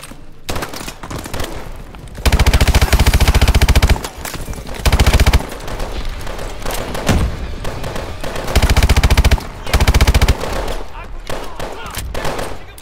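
Automatic gunfire rattles in Call of Duty: Advanced Warfare, with dense machine-gun bursts around the two-, five-, and nine-second marks between lighter scattered shots, loud and close throughout.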